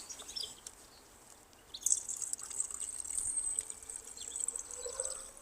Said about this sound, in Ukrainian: Він у цієї бутилочки, що капає.